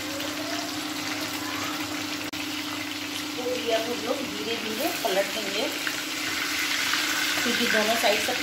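Fish frying in a pan for a Bihari-style fish curry, a steady crackling sizzle that runs throughout with small bursts of spitting oil, close and moderately loud, with no talk over it.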